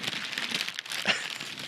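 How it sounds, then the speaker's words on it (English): Crumpled brown packing paper rustles and crinkles as it is handled up close, a continuous crisp crackling throughout. "So inside it's crumpled brown paper."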